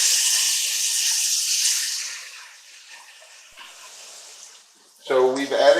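Steaks sizzle in a hot pan just after being flipped, a loud broadband hiss that fades to a quieter crackle before a voice comes in near the end.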